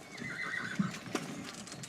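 A weak mare with her foal is loaded during an RSPCA animal rescue, and a horse whinnies sharply over a steady bed of shuffling hoof clatter and stable noise, fairly close.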